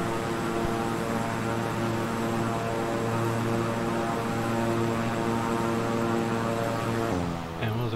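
A twin-engine King Air 350i propeller plane in Microsoft Flight Simulator drones loudly and steadily with layered engine hum, fading abruptly near the end as the engines drop away.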